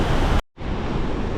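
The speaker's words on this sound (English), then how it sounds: "And this is the very bottom of the waterfall. And as you can see here, there is a strong current going downstream." Strong current churns at the foot of a waterfall in the Costa Rican rainforest near La Fortuna, a loud continuous roar that drops out abruptly for a split second before resuming.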